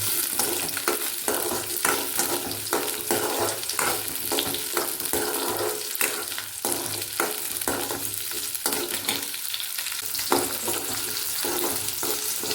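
Onions and garlic sautéing for a roasted peanut chutney, a loud, continuous sizzle punctuated by frequent scraping strokes of a spoon stirring the pan, close by throughout.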